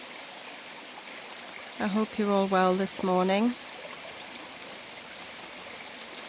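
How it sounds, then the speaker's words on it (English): A river streams steadily close by on a morning outdoors, a continuous broadband wash that runs the whole time, with a person speaking briefly over it. "As you can see, I'm down by the river again."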